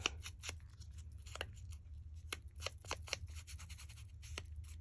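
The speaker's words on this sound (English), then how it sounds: "take your scissors and kind of rough it up a little bit to give it a little age" Scissors scrape and snip repeatedly along the edges of paper to rough them up for an aged look in a craft project, a steady close run of short scratchy strokes over low background hum.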